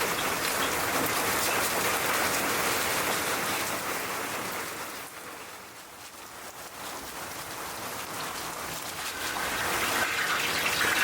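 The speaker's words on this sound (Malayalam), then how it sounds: "ഇതിനൊക്കെ നല്ല മഴയാണ്" Heavy rain pours steadily outdoors in a cold place where food is being cooked outside, a dense, continuous hiss that eases slightly midway and then builds again, with no voices.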